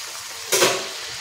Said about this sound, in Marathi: एकच पुरी आपण तळून घेणार आहोत कारण मोठ्या आपण पुऱ्या बनवतोय.